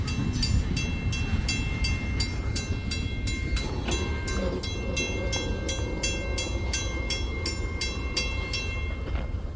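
Intermodal freight train rolling past at LaSalle, a continuous rumble with rhythmic wheel clicks over rail joints, metallic squeal tones and a brief horn-like tone, fairly close and steady throughout.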